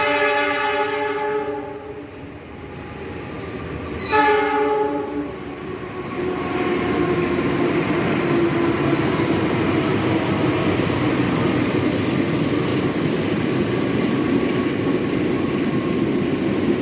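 Economy-class train at Lempuyangan station in Indonesia: a loud horn blares twice, then a steady heavy rumble of rolling wagons carries on for over ten seconds without talk.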